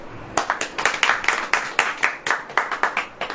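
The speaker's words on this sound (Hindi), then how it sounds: "ताली बजाइए" A congregation at a Hindi-language Christian sermon claps in a quick, fairly steady rhythm, loud and close, with many hands striking together.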